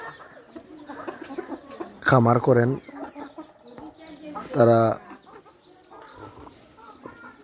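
Farm chickens that are fed natural grass give two loud bursts of clucking, close by, against a background of people talking.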